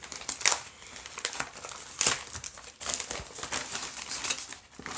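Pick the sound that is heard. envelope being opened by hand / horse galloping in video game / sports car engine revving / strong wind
envelope being opened by hand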